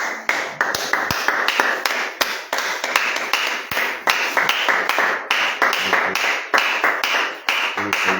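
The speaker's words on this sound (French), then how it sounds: "On va acclamer le Seigneur." Church congregation clapping during a Monday morning service praising the Lord, sharp rhythmic handclaps tapping steadily and loudly, close by, with no cheering evident.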